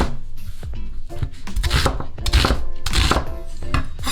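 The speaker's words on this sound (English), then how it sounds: "I'm gonna take the red onion and cut it in big chunks." A kitchen knife chops a red onion into big chunks on a cutting board, giving a quick run of sharp, close knocks in uneven bursts, heard alone.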